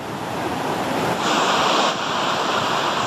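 Floodwater rushing strongly through Bungo Regency, Indonesia, after a flood that cut village bridges: a loud, steady broadband roar with no voices, fairly close and continuous throughout.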